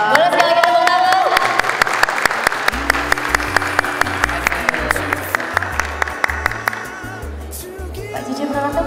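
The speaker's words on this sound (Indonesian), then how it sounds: "Boleh sekali lagi tepuk tangan." At the Indonesian Movie Award campus event at Kampus Esa Unggul, the audience applauds again, loud continuous clapping over a rhythmic, thumping music beat, with crisp repeated hits that taper off near the end.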